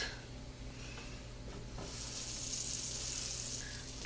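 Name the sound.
butter sizzling in frying pan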